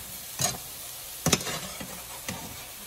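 Eggs cooking in a pan with onions and tomato give a soft, steady sizzle, broken by a few sharp scrapes and clinks of a utensil stirring close by. No one speaks.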